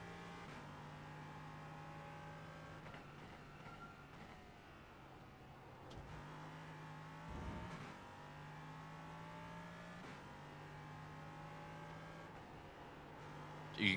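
LMP3 prototype race car engine in the iRacing sim during a two-hour endurance race, a steady high drone with rising and falling revs and gear changes through the corners, heard continuously with no talk.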